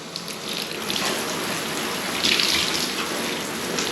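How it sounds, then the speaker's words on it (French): Tap water runs in a steady, close gush while the inside of a running shoe is rinsed, a continuous splashing flow with no voices. "On pense à bien rincer l'intérieur aussi."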